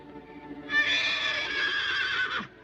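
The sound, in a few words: old horse neighing at night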